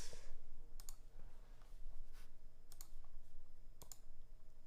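Switches clacking on a Zoom65 mechanical keyboard fitted with no keycaps, a handful of sharp, quiet clicks spaced irregularly over a low steady hum, with no voices.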